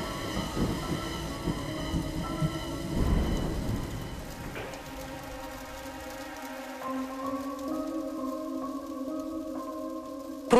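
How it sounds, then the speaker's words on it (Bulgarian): A thunderstorm with heavy rain, steady downpour hissing throughout while a deep rolling thunder rumble swells in the first half, later giving way to softer rain under a sustained tonal drone and a sharp sound at the end. "Дъжди и грамотевични бури се разразиха над Западна България след обед."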